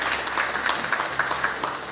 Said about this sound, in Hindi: सेवक के लिए जोरदार ताली बजाएं आप सभी।